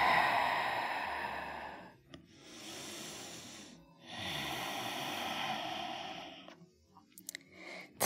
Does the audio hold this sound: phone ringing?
no